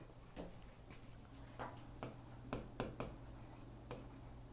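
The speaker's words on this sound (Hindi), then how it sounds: "मैं यहाँ पे लिख देती हूँ" Chalk or marker writing on a board during a geography lecture, with short scratchy strokes and taps in an uneven rhythm over a steady room hum, no talking.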